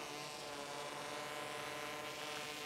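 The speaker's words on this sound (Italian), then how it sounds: "sembra davvero un drone militare, fa molto rumore" A V-Coptr Falcon bicopter drone lifts off with its motors spinning up, giving a loud, steady, high-pitched buzzing whine with rich harmonic overtones that holds unchanged throughout.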